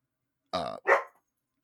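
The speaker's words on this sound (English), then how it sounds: "my dog's barking." A dog gives two quick barks in a row, close and fairly loud, with silence on either side and no talking.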